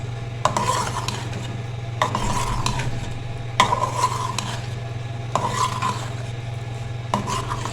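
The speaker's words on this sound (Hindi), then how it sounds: "ये लाजमी दोनों मसाले इसमें जाएंगे और अच्छे से करेंगे मिक्स।" Korma being stirred in a metal pan with korma masala and other spices, giving repeated scraping strokes of a spoon against the pan at a steady rhythm over a constant low hum, near and fairly loud, with no speech.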